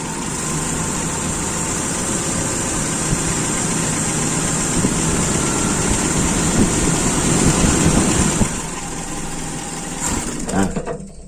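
A carburetted motorcycle engine with a lean idle mixture idles steadily up close, a constant throbbing drone that dies away near the end.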